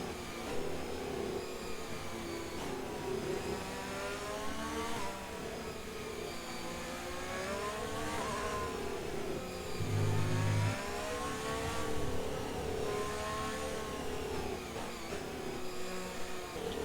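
Race car engines in the F1 2020 video game idle and rev in a safety car queue, a continuous buzzing drone that swells and dips repeatedly with rising and falling pitch, steady and loud with no talk.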